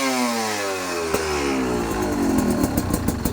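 A motorcycle engine in Thailand revs up steadily with rising harmonics, loud and close, the bike sounding clean through the mid-range without talk over it.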